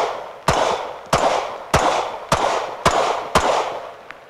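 Six handgun shots are fired at an evenly spaced, steady rhythm while the shooter moves sideways engaging a target, each a sharp, loud crack with a short ringing decay, with no talking over them.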